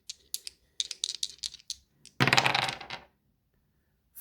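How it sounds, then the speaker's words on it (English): Dice tumble and clatter across a surface as a roll for picking stories, a run of light, quick clicks followed by a louder scattered rattle before settling into quiet. "I keep rolling the dice"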